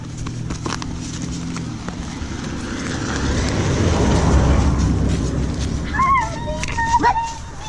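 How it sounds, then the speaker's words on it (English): A car approaches along a road through the woods, its broad rumble swelling in the middle of the clip and easing off toward the end, with a few brief chirps near the close. "Car coming."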